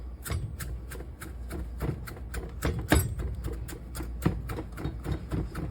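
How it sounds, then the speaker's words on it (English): Fresh cilantro is chopped with a knife on a cutting board in a steady series of quick, close taps and thuds that continue without talk. "Chop that up."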